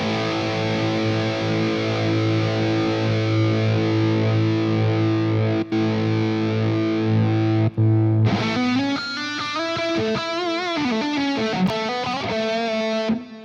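Distorted electric guitar through a Fractal JVM amp model, a sustained chord ringing for about eight seconds, then a busier riff with shifting notes, loud and dry with no talking.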